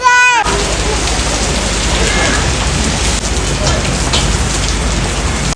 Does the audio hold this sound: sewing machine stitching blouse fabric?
no